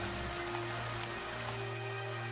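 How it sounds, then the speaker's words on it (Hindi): A heavy downpour falls in a steady, even hiss of rain on surfaces, continuous throughout, with a low steady hum underneath. "कड़कती बिजली के साथ साथ मूसलाधार बारिश भी शुरू हो गई।"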